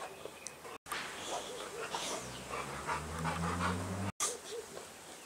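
Farm dogs panting at a modern farmhouse-style property, a steady, close, breathy rhythm of quick breaths running through most of the stretch with brief gaps and no talking.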